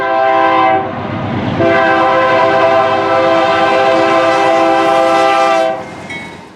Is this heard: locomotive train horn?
yes